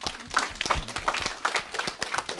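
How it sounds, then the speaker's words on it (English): Audience applause at an alumni career panel, a modest group clapping in quick, uneven bursts that stay moderately loud throughout. "Now you can give them applause."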